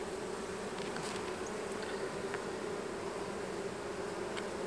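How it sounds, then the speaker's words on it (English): Honeybees drone in a dense, continuous buzz around an open hive during an inspection, close and steady, with occasional individual bees passing near. "There's a lot of bees back."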